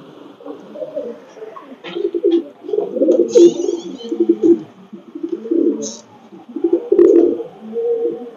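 A Pakistani Teddy pigeon, a female, coos in repeated low throaty phrases close by, with brief higher chirps and soft rustling between the coos.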